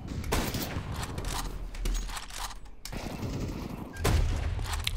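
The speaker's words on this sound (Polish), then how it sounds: "To był taki losowy strzał totalnie." Gunfire in Counter-Strike 2, a burst of sharp reports with a single shot through smoke and a wall, rapid cracks over steady game ambience, fairly close and loud.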